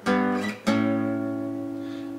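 A short guitar phrase from a song, two clearly plucked chords with ringing harmonics, the second left to sustain and slowly fade, played alone without talk.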